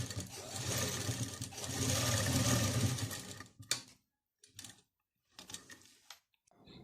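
A sewing machine runs in a long continuous burst while stitching the armhole seam of a kurti, then starts and stops in several shorter bursts, loud and close with no talk.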